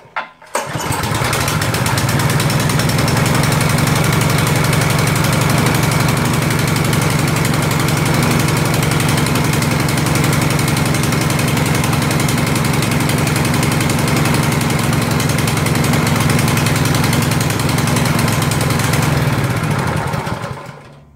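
A petrol engine on a sweeping machine starts and then runs loud and steady at close range for about twenty seconds with a constant droning rumble, then cuts off at the end. No talking.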